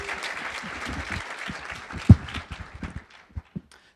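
Applause from the audience at an opening session tapers off, thinning into a few loose, uneven claps and a sharp thump before the room falls quiet.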